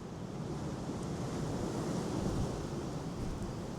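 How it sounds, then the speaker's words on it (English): Wind gusts across an open hiking trail, a loud continuous rushing roar buffeting the microphone with no voices. "Ugh, the wind."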